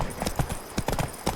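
Horse hooves clip-clop in The Witcher 3, a quick uneven run of hollow thuds from a trotting horse pulling a wagon, close and distinct over about a second and a half.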